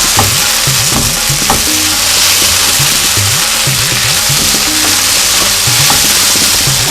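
A spoon scrapes and stirs fried okra (bhindi) in a pan, repeated close rhythmic scraping over a loud continuous sizzle, with no talk.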